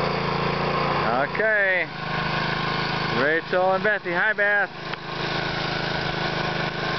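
A Stihl 024 Wood Boss chainsaw runs at a steady high-pitched idle and cutting drone, loud and close, while people talk over it.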